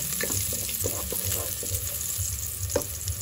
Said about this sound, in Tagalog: igisa natin yung ating mga seasonings. Una natin guys is yung garlic